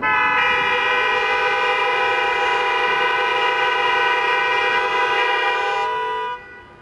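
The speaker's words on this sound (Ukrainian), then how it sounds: "Загиблих у дорожньо-транспортних пригодах згадали хвилиною мовчання та сигналом 24 клаксонів." Twenty-four car horns blare together in a memorial tribute to road accident victims in Khmelnytskyi region, forming one loud, sustained chord for about six seconds before fading out.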